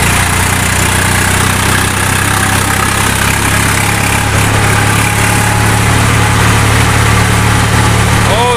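A 855 tractor hauls a loaded trolley toward a highway, its engine holding a continuous heavy rumble close by, with a faint rising whine near the end.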